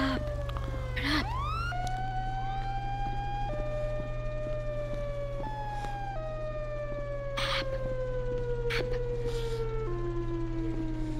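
A wailing, siren-like call from the Siren Head creature echoes through a horror map in a video game. Long, slowly falling tones repeat several times at moderate loudness, mixed with distant thumps, and no one talks over it.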